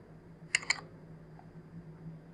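Keys pressed on a computer keyboard while entering an Aadhaar number: two quick, crisp clicks close together, close and clear over a quiet hum, then silence with no talking.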